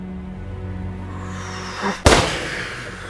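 A single loud, ripping gunshot cracks out after a quiet low hum, its sharp burst decaying into a brief rumbling tail.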